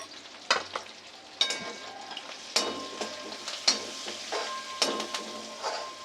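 Bitter gourd frying with turmeric in a pan gives a soft, steady sizzle broken by repeated sharp stirring scrapes and clacks of a spatula against the pan, close and alone.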